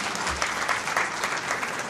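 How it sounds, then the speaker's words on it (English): An audience applauds the Minister at a Namibian government launch of upgraded banknotes and new coins, a steady, dense clapping that stays loud and even from start to finish with no voices over it. "Another round of applause to our Minister, please."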